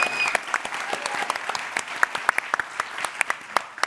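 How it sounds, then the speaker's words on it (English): A live audience at a speed build challenge applauds a contestant, a dense burst of many hands clapping close and steady for several seconds, with faint voices mixed in. "Give it a round of applause for Ankita."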